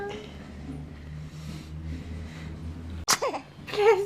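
A baby sneezes once, a sudden sharp burst near the end that follows a quiet stretch of low room hum, and then a small vocal sound.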